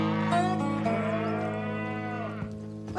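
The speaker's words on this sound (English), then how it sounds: "Cows! I knew it!" Cartoon cows in King of the Hill moo in a loud, drawn-out chorus close by, one long low call overlapping others, with no talking.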